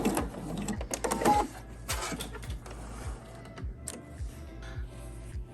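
A sewing machine stitches a rolled hem with a rolled-hem foot, its needle thumping in a quick regular beat with mechanical clicks and rattles, near and fairly quiet, speeding up and slowing in short runs.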